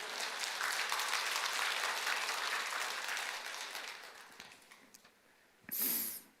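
A church congregation claps through a Sunday service, fairly loud at first and then thinning out to near silence, followed by a short, bright burst of noise at the end.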